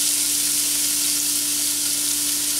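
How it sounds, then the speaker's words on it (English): Onions sweat in a hot pan with a steady, dense sizzle. The frying hiss stays loud and close throughout, with no talking. "start sweating out these onions a little bit,"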